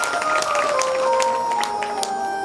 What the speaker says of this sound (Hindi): जोरदार तालियां सबके लिए होनी चाहिए